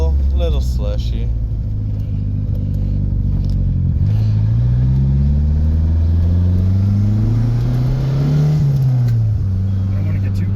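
A turbocharged 1985 Dodge Charger engine revs and pulls under boost while driving, a steady close-up drone with pitch climbing and falling over about ten seconds, loud throughout.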